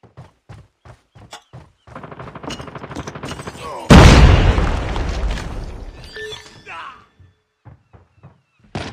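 A frag grenade goes off in Call of Duty Mobile, a single loud, close blast that hits hard and then rumbles and decays over a few seconds amid game combat sounds and character callouts.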